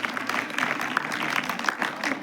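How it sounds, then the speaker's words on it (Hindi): Applause for a primary-school girl who topped her class, a brisk, moderately loud burst of many hands clapping, steady throughout with some murmuring voices mixed in. "एक बार जोरदार तालियां इस बच्ची के लिए बढ़ाया जाए"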